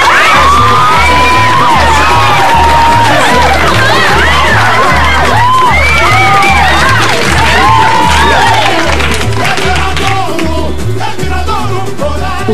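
Carnival crowd at a samba school parade cheering and shouting over a pounding drum-section beat, with whoops and voices rising above the steady percussion throughout.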